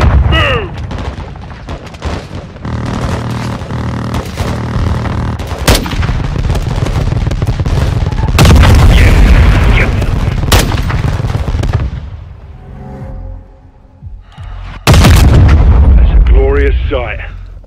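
Air strike explosions and gunfire in the Call of Duty Modern Warfare 2 campaign, with dense loud blasts, rumbling booms and crackling shots rolling through the scene, a brief lull near the end before another heavy burst, and radio-style voices talking over it.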